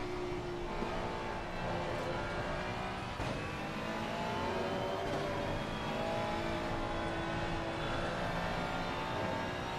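A race car engine in the Assetto Corsa Competizione game drones continuously, rising and falling in pitch as it revs and shifts through gears, steady and close with no pauses.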